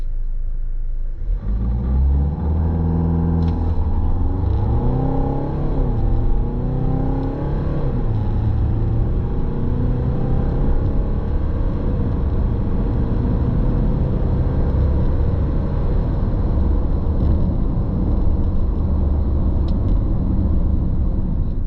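A 2025 Kia Carnival diesel accelerates hard from a standstill to 100 km/h, its engine rumble building loud and close from the cabin with audible gear changes, then settling into a sustained drone and road roar with no talking.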